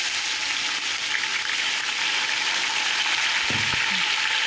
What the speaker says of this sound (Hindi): अब हम अदरक लहसुन की भुनाई करेंगे 5 मिनट तक।